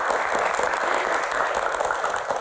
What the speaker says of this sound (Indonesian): Tepuk tangan buat teman-teman semuanya, terima kasih.